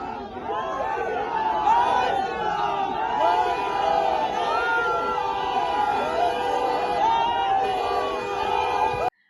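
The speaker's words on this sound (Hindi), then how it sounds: "रवि किशन को एक नजर देखने भर के लिए लोगों की भीड़ उमड़ पड़ी" A dense crowd gathered at a BJP roadshow for Ravi Kishan in Balumath, Jharkhand, shouts and calls out over a constant roar of chatter, loud and close throughout before cutting off abruptly.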